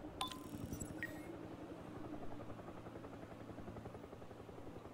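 Helicopter rotors thumping in a steady rapid chop in the real-time strategy game Broken Arrow, faint and continuous, with brief clinking interface sounds early on.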